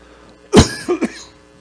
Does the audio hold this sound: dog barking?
no